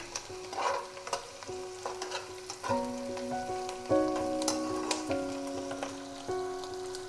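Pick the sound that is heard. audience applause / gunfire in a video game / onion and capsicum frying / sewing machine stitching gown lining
onion and capsicum frying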